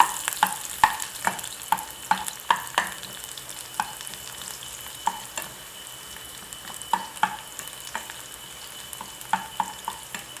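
Ginger and garlic sauté in a pan under a steady soft sizzle, with repeated close clicks and scrapes of a utensil stirring at an irregular rhythm, no talking.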